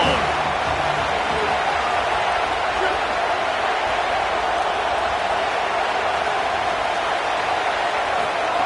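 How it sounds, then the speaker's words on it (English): A football stadium crowd roars in a steady, dense wash of cheering that never lets up, with a broadcast commentator's voice partly audible underneath. "This crowd ready to make its presence known."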